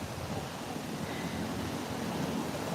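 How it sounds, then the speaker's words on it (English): Steady wind gusting across a beach in Da Nang, Vietnam, a continuous broadband rush with faint surf in the background and no talking. "It's windy today."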